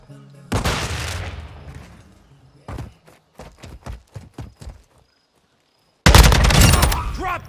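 A frag grenade detonates in Call of Duty MWII multiplayer with a loud, close blast that rumbles on for over a second. It follows earlier bursts of gunfire and a scatter of sharp shots.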